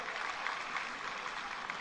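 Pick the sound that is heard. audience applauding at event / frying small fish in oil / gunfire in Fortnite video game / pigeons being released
audience applauding at event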